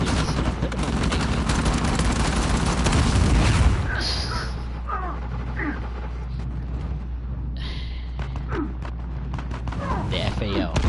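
Grenade explosion in the video game Uncharted 4: a loud burst of blasts and gunfire-like cracks for a few seconds, then fading to quieter game ambience while someone talks over it.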